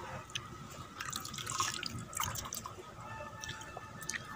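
Someone splashes and plays with water, making steady close sloshing and dripping sounds at a moderate level, with scattered sharper drips throughout.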